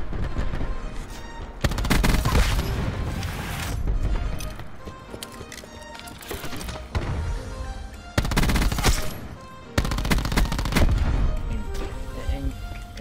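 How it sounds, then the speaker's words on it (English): Multiplayer gunfire in Black Ops 4: continuous loud automatic bursts from several weapons overlap with booming impacts and explosions, broken by brief pauses, dense and close throughout. "There's two people shooting at him."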